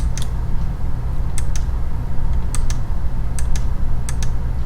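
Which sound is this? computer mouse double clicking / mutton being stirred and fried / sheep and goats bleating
computer mouse double clicking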